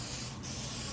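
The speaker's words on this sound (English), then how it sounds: "we're gonna take our pan and just spray it with some olive oil or whatever oil you have" Olive oil sprays from a can onto a pan in a home kitchen, a loud, continuous pressurized hiss with a brief dip near the middle, heard close and alone.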